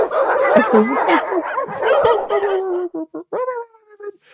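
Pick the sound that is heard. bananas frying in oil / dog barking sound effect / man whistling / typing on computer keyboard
dog barking sound effect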